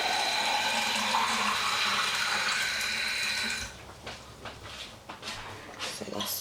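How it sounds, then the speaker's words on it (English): Cold water is poured from a pint glass into a pot of peas, a loud continuous gushing pour lasting a few seconds before it stops, followed by softer splashes and clinks in a kitchen. "So I'm going to add 2 more pint glasses of cold water."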